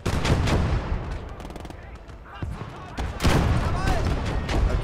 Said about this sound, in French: Oh, beau tir de la part du Panzer 4.